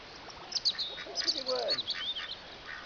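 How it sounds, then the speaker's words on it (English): Ducks quack in a woodland-edge garden, giving several short, fairly faint calls in quick succession while a person talks nearby. "Oh, we've got a duck invasion."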